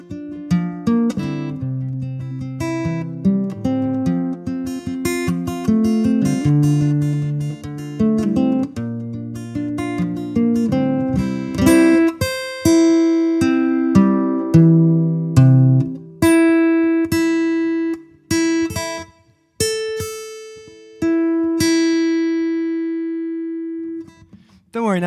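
An out-of-tune acoustic guitar with old strings is strummed and picked, its chords sounding slightly sour and off pitch, with some sustained single notes ringing out later.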